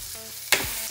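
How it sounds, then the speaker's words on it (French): Steak dropped into a pan with butter and foie gras fat bursts into a sudden loud sizzle after a brief quiet moment, then settles into steady frying. "j'ai gardé mon beurre et le gras qui est parti de mon foie gras et je vais y incorporer dans ma poêle mon steak"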